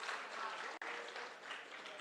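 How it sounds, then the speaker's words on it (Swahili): Audience applauding the NSBF committee during a live ODM leaders' address, a steady wash of clapping with one brief dropout partway through. "Ya mwisho, simpigie makofi treasury team yote."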